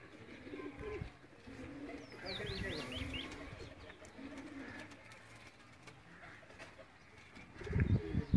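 Cooing of Dubai-breed flying pigeons in a breeder's loft, several soft repeated coos mixed with chirps and nearby people talking, with a louder thump of handling near the end.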